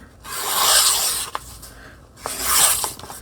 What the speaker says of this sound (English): Alright, let me wipe this blade down.